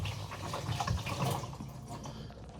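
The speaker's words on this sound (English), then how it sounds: "just chuck a bit of water in the drum and swoosh it around" Water sloshes and swirls around inside a washing machine drum, a continuous muffled watery churning that stays close and moderately quiet for a couple of seconds, with no voices.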